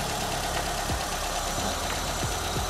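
A car engine idles steadily while its idle RPM screw is adjusted, giving a continuous medium-pitched hum with faint rhythmic knocking and no voices.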